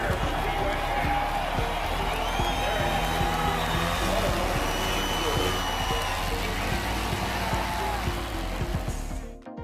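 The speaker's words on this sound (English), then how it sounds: "Listen to the crowd." A large Supercross stadium crowd at the Phoenix Supercross 2012 race roars and cheers loudly and continuously, a dense wash of voices and whoops with motorcycle engine noise mixed underneath, fading abruptly at the end.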